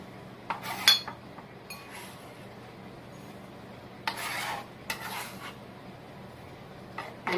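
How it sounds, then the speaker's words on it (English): A knife chops fresh rosemary herbs on a board for beef stew, in short irregular bursts of quick cuts and scrapes with quiet pauses between them, close and fairly soft. "Now that I've removed the needle, I'm going to go ahead and chop them up."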